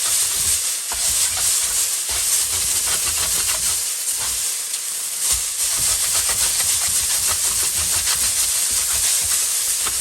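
Soy sauce noodles with bean sprouts and spring onions stir-fried in a hot wok, a loud steady sizzle and hiss with rhythmic scraping strokes of the spatula running throughout, nobody speaking.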